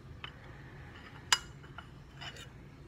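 A metal spoon clinks once, sharp and close, against a bowl while scooping peanut butter into homemade frozen dog treat batter, with faint scraping before and after.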